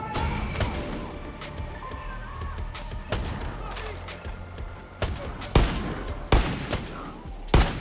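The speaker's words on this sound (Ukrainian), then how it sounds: "давай со снайперской поснимаем, кого можем" Sharp sniper rifle shots in the video game Far Cry 6 crack out one at a time at irregular intervals over steady game noise, with voices talking underneath.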